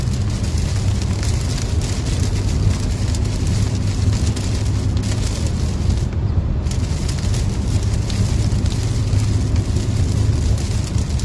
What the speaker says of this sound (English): Nobody wants just steady,